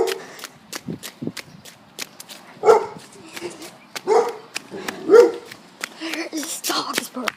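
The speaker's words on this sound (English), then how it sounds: "This dog is barking at me." A dog barking outdoors in a residential neighborhood among central air conditioner units, repeated sharp barks in an irregular rhythm, some near and loud, with a person talking over them.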